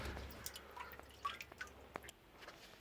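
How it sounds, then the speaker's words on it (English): Rainwater splashing and dripping onto pea plants in a garden, a scatter of irregular close drips and patters over a low steady pour that stops near the end. "So then we just put water all over the plants."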